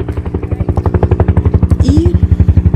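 A firefighting helicopter carrying a water hose flies close overhead during a California wildfire, its loud rotor beating in a fast, steady rhythm throughout, with a brief higher tone rising briefly near the end.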